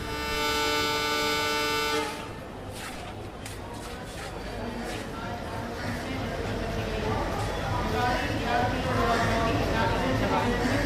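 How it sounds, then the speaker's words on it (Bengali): A passenger train pulls away from a station platform: a loud, sustained horn blast opens, then it gives way to a steady, rolling rumble of carriages that keeps building as the train moves off. "ট্রেনটা আওয়াজ করে প্ল্যাটফর্ম থেকে ছাড়তে লাগলো"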